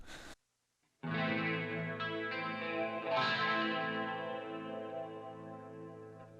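Electric guitar through a Line 6 Helix JCM amp model with Trinity stereo chorus, a single strummed chord ringing out and slowly decaying after a brief muted scratch and a pause, with a shimmering distorted 80s tone.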